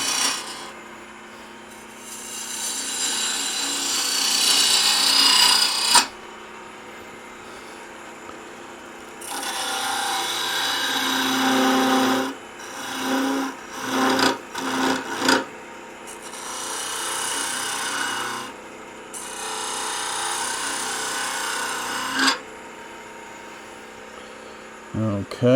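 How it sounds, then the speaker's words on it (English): A bowl gouge takes aggressive cuts into spinning wood on a lathe, long hissing scraping passes broken by pauses and a stretch of choppy, irregular bursts, loud and close. "Switch over to the bowl gouge here. Take a little more aggressive cuts with it."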